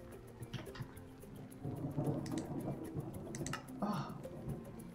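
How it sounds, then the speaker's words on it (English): Rain and thunder in a modded blocky video game: steady rain patter with low rolling rumbles swelling and fading, heard under soft speech and scattered clicks. "I love the sound of rain."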